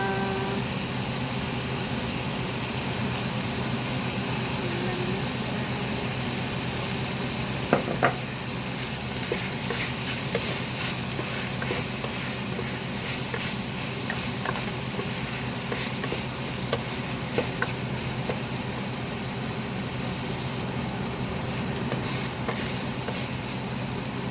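Chili hits a pan of blood pudding stew flavoured with lemongrass and ginger, setting off a steady, dense sizzle with occasional stirring clinks, close and continuous without talk.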